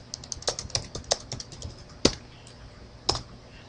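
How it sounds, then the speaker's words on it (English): Keys on a computer keyboard tapped out to enter a command, about a dozen crisp, separate clicks in an uneven rhythm with a few heavier strokes, close and alone with no talking. "you just basically just type in the same command"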